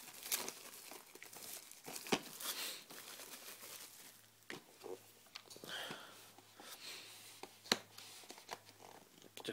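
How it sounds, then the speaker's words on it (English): A cardboard sleeve is peeled off a Jaws Blu-ray steelbook, giving quiet, close crinkling and tearing with scattered soft snaps and rustles throughout. "Just peel this off, cardboard sleeve."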